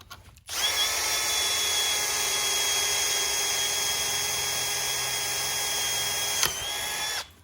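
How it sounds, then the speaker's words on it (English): A power drill runs continuously for about seven seconds, drilling out old screws on a 1966 VW Split Bus window, a steady high whine close up with a brief catch near the end before it stops. "drill them out"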